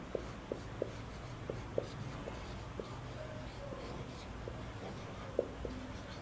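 Pen writing a prescription for azithromycin on paper: faint, light scratching strokes and small taps at irregular intervals over a quiet background hum, with no talking.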